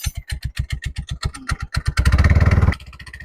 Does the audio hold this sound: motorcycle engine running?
yes